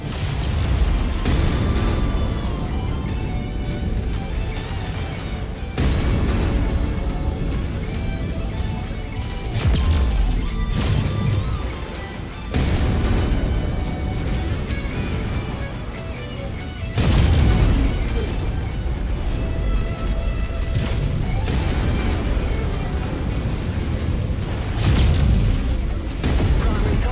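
Heavy booming missile explosions rumble repeatedly in a Mechwarrior 5: Mercenaries mech battle, loud crashing blasts arriving in bursts over continuous low battle noise.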